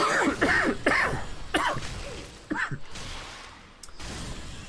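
Several harsh allergy coughs and throat-clearing bursts from a nearby person, spaced irregularly, followed by quieter background noise.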